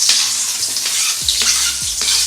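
Sliced onions fry in hot oil for Chinese-style egg noodles, a loud and close steady sizzle with a few scraping strokes of stirring and no talking.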